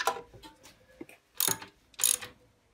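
Lathe drive belt tensioner knob being tightened, giving a few separate ratcheting mechanical clicks and grinds: a soft cluster early on, then two louder, sharper bursts about half a second apart, with no talking.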